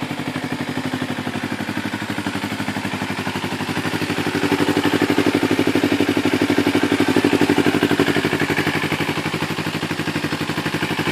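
A 2012 Kawasaki Ninja 250 fitted with a Leo Vince GP Corsa slip-on exhaust idles a little low, steady and close, with a fast, even pulsing beat that swells slightly in the middle.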